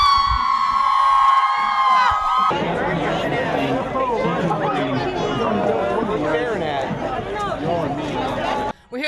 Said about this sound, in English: they're going to be the cheering crowd